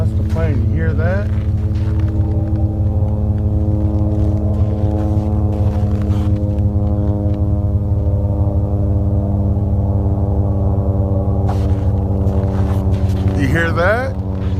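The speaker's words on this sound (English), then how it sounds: "That's the plane, you hear that?" A steady, loud engine drone from an airplane passing over a forest campsite, with a layered tonal hum that holds for the whole stretch and small shifts near the start and end.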